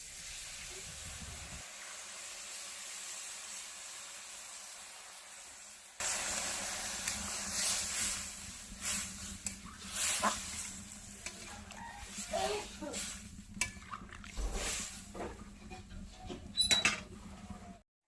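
Fish curry with cauliflower and potato cooks in a pan after liquid is added, with a quiet hiss at first, then a louder steady bubbling sizzle joined by scattered stirring scrapes and light clatters.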